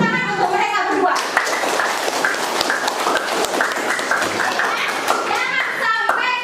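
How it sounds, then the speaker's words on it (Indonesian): A classroom of students claps for two classmates, a dense, steady patter of many hands close by that rises and continues throughout, with children's voices mixed in. "Oke, kita kasih tepuk tangan untuk mereka berdua."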